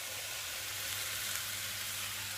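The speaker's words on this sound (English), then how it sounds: "And as you can hear, it's frying pretty good." Steady, dense sizzling of food frying in a hot Cerafit frying pan, a constant crackling hiss with no voices.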